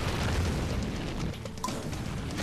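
Boss Gharn's explosion attack in Darksiders 2 on Apocalyptic difficulty at the Cauldron bursts as a dense, roaring blast that fills the whole clip with sustained rumbling noise, loud and without talk.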